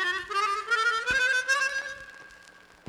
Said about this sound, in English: Here are some half-tone trills played exactly as shown in the text.